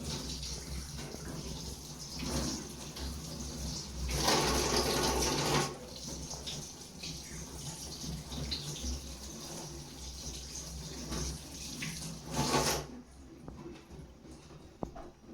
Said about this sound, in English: So now I'm going to rinse them again, at least just to take out